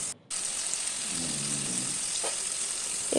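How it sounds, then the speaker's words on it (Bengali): Onion and tomato sizzle and fry in a pan while being stirred for a bhola fish mustard curry, a steady close hiss with a few soft scraping stirs and no voices. "ভালো করে নেড়ে চেড়ে ভাজা করে নিচ্ছি পেঁয়াজ আর টমেটোকে।"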